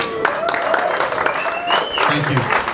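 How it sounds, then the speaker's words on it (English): Audience applause at a Mobile Monday tech community event in Cape Town, steady clapping filling the room with speech and tonal sounds layered over it throughout. "So really big round of applause."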